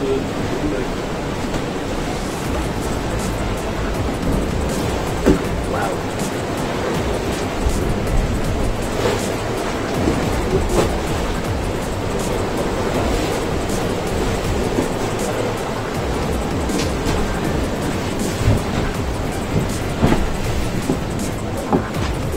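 Sea swell and waves break around a sailing boat in the Bay of Biscay as it heads into the swell, with a constant loud wash and wind roar and occasional slaps against the hull.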